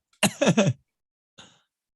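A close, throaty cough of two or three harsh bursts, followed by a brief pause and one softer, shorter cough.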